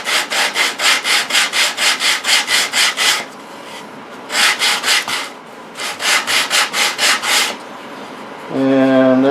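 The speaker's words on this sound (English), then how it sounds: "So I'm starting with an 80 grit sandpaper." Rhythmic sanding strokes of 80-grit sandpaper on the outside of a wooden jewelry box, loud and close, in three bursts separated by short pauses, ending with a brief tonal sound.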